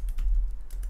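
Keystrokes on a computer keyboard while entering text in Photoshop: a few quick close clicks in a short burst over a low background hum.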